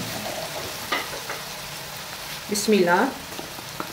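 Onion and garlic frying in a pan, a steady soft sizzle running throughout while a voice speaks briefly over it and a short clatter of stirring rises near the end.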